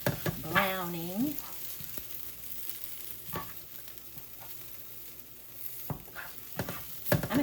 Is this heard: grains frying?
yes